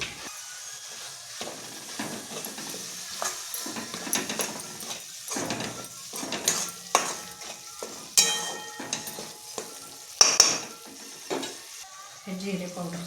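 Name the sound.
masala frying in oil while being stirred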